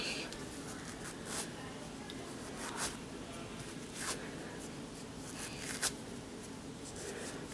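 Black dubbing material is ripped apart by hand for fly tying a minnow pattern: a series of short, soft tearing rasps roughly every second or so, close and quiet over faint background hiss.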